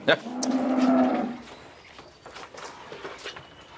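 A large dairy cow lets out one long, loud, close moo, followed by quieter shuffling and faint background noise on a dairy farm.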